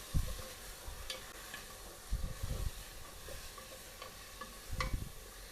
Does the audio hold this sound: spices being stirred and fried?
yes